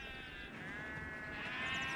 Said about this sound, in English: local sheep farmer Andrew Barr bring the ewes off the hill